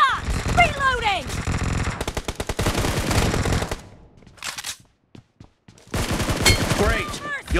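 Gunfire in the BGMI mobile battle royale game: loud, rapid automatic bursts and single shots up close, with a quiet gap midway filled by a few isolated cracks, then another burst.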